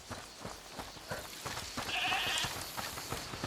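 A goat bleats a few times at middle distance in the game A Plague Tale Requiem, its wavering cry rising over a quiet bed of footsteps and ambient rustling, with no speech.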